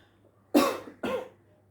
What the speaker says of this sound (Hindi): मुझे भी आने लगी खांसी की बात करते करते